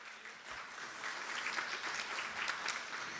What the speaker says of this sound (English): I think you all need to give yourselves a big pat on the back and round of applause.